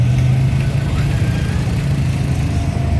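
An antique John Deere 50 gas tractor running at an old gas tractor show in Mid Michigan, a loud, close, steady low engine drone that holds throughout.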